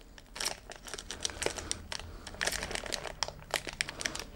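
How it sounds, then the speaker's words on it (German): Plastic bag crinkling and rustling in quick, close bursts as it is pulled shut around packaged DJ headphones, with no talking. "Ich krieg die Tüte wieder nicht zu."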